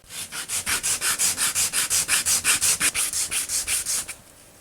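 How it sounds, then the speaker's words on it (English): A popsicle-stick minnow lure is rubbed across 220-grit sandpaper in about twenty quick, even back-and-forth strokes, a loud and close rasping that stops suddenly near the end. "I'm just going to lay it on some sandpaper and rub it across."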